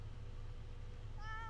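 A cat in the game Random Legacy lets out a single short rising meow near the end, faint and thin over a constant low hum of background noise.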